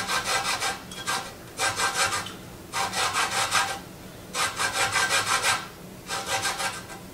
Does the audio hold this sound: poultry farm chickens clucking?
no